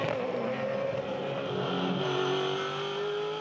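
V8 Supercars race past at Sandown in 2010, a dense roar of several engines with rising and falling pitch as the pack sweeps by, loud and steady with no talk.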